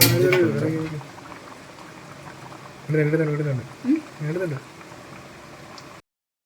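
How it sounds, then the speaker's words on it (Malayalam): Chicken curry made with country chicken and curry leaves bubbles steadily in a pot, a soft continuous simmer heard under intermittent talking. "നമ്മുടെ ചിക്കൻ ഏകദേശം വെന്ത് വരുന്നുണ്ട് നമുക്ക് അല്പം കരിവേപ്പിലയും കൂടെ അതിലേക്ക് ആഡ് ചെയ്ത് കൊടുക്കാം"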